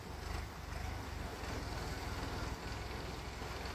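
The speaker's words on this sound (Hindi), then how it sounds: "ये देखें तो पहले वो मांझा लगाएगा ट्रैक्टर।" A 735 model tractor working a field, dragging a leveling plank over uneven ground; a steady, loud low diesel drone with a throbbing rumble runs throughout without pause.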